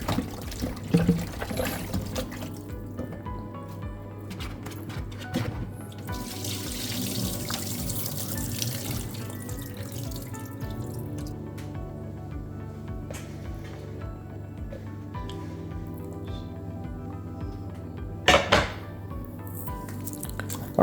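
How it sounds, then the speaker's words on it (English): Cow foot washed with water and lemon juice in a kitchen sink, a steady running tap with splashing, trickling and occasional handling sounds, close and continuous with no talk. "I'm going to clean them up nicely, wash them down with some lemon juice"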